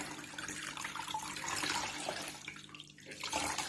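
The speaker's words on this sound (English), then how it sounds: "give it a gentle squeeze to get most of the water out" Water splashing and dripping as a wet crocheted garment is gently squeezed by hand, a steady close trickle with soft sloshing throughout.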